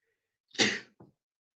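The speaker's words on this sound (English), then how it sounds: "Hold on, I gotta sneeze." A single loud sneeze, sharp and close, with a brief short exhale right after, otherwise silent.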